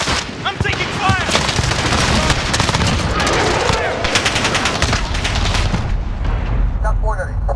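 Dense automatic gunfire and explosions from an AS VAL team deathmatch in Call of Duty: Modern Warfare (2019), loud and continuous throughout, with bursts of rapid shots overlapping booms and a player voice calling out under the battle.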